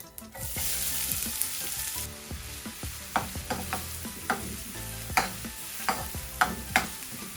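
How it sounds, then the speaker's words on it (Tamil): Onion, cardamom and fennel sizzle steadily in a hot pan for paneer pirattal, a loud hiss at first that eases into a bubbling fry broken by repeated sharp scrapes and knocks of a stirring spoon. "அதோட நான் வெட்டி வச்சிருக்கிற இந்த வெங்காயத்தையும் இதுக்குள்ள போட போறேன்."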